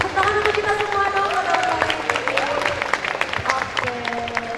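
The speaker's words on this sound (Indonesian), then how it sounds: "tepuk tangan untuk kita semua dong" A student audience at a product design presentation claps together, a busy patter of hands heard close, with voices speaking and calling out over the clapping throughout.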